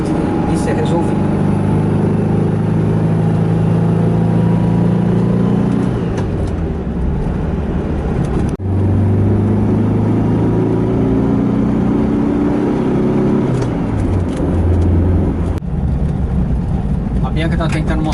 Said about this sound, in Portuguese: o motor está falhando um pouquinho